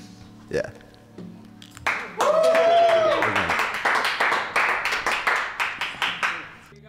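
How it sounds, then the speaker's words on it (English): An audience claps in steady rhythmic unison, loud sharp beats that carry on for several seconds after a brief vocal passage. "Clap for Henry, a safety fourth."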